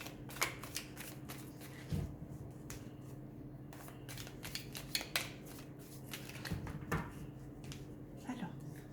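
Oracle cards riffle and slap softly as they are shuffled and four are drawn, a series of quick papery flicks and taps with a soft voice murmuring underneath.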